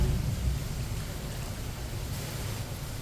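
Water poured from a glass into a cooking pot of spices for moong dal khichdi makes a steady, loud rushing splash that runs without a break.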